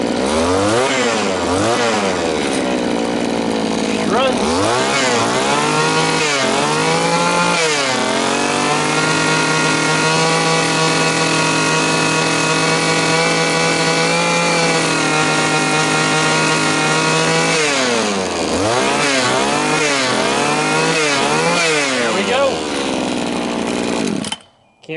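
A John Deere TS26 string trimmer's two-stroke engine, running after a carburetor kit install, revs up and down in repeated bursts, holds a long steady high whine in the middle, then revs and blips again before cutting out at the end.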